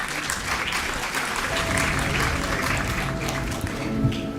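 An audience at an actuarial summit in Malaysia gives a round of applause for a government minister, a steady, dense clapping from a large hall crowd that holds evenly throughout.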